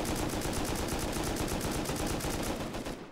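Rapid sustained automatic fire rattles at a base in a survival video game, a dense, loud, evenly pulsing burst lasting about three seconds before tapering slightly at the end.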